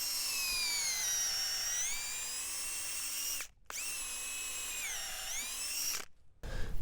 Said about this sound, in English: So I'm gonna drill the hole to about the black line there.